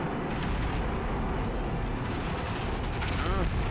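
Tank cannon fire in the MWT Tank Battles video game, with a Leopard 2A7 Plus tank in the match, heard as dense, continuous booming battle noise that runs the whole time with no pause.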